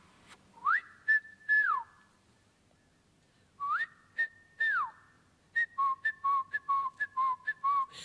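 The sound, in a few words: whistling imitating birdsong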